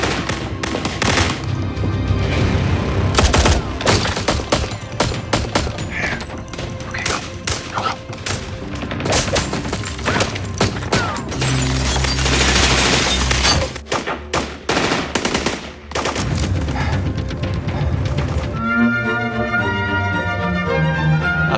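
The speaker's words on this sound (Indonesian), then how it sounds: "Berhubung mereka semua kalah jumlah, Bram menyetel rekaman suara tembakan untuk menakut-nakuti musuh." Recorded gunfire played back through a speaker: dense, continuous bursts, rapid volleys and machine-gun rattle loud throughout, with a brief lull before more shots and a musical tone near the end.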